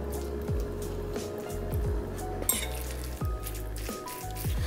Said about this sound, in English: now I'm gonna mix the hot pepper tuna